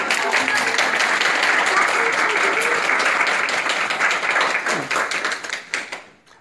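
Sustained applause from an audience at an educational event, steady and full for several seconds before tapering off toward the end.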